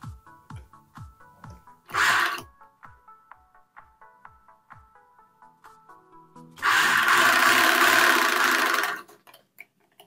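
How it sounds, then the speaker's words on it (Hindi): Sewing machine stitching a designer blouse, with two bursts of steady whirring, one short and one longer, between slow clicks of the handwheel and mechanism. "इस तरीके से हमें सिलाई लगाएंगे।"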